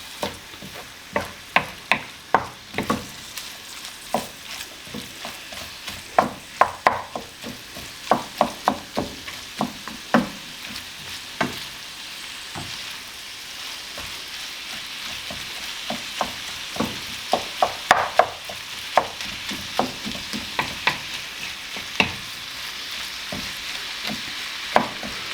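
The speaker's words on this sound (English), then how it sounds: "So all we're doing is very gently just stirring it round." Food being gently stirred in a sizzling frying pan while cooking lasagne filling, steady close frying hiss with repeated scraping and tapping of the utensil against the pan, no talk.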